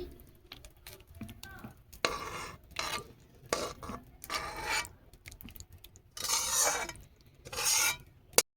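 Cooked Kashmiri potato curry is scraped out of a pan with a utensil. Irregular bursts of rasping scrapes come close and fairly loud, separated by short quiet gaps, and no one talks.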